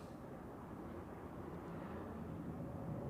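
An airliner departing Zurich Airport for Montreal, a steady broadband jet roar held at constant loudness throughout, with no voices.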